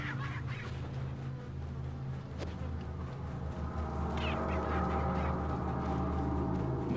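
Chickens cluck and squawk in Resident Evil 4, a few scattered calls over a steady low background hum, with brighter clucking bunched near the end.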